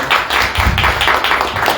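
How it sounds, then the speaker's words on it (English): An audience at a Dallas Monday night political candidate forum claps briefly, a close, loud patter of hands lasting under two seconds. "A round of applause"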